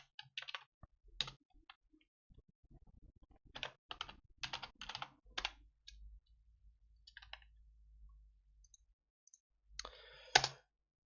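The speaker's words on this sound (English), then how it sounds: "Okay, typing the results." Someone types on a computer keyboard in quick bursts of sharp clicks separated by pauses, close and clear with a faint low hum underneath, no voices.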